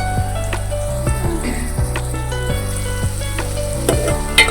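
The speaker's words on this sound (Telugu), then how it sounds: "ఉల్లిపాయలు బాగా వేగాలండి బాగా వేగిన తర్వాత" Onions fry in a pan for a ridge gourd curry, a close, continuous sizzle broken by regular scrapes and knocks of stirring.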